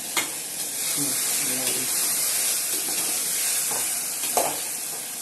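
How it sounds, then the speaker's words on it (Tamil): Brinjal sautéing in a pan for kathirikkai kulambu, a constant bright hissing sizzle with a few quick stirring clinks, close and steady. "பாருங்க அந்த காய் நல்லா வதங்கிட்டு இருக்கு இல்லையா"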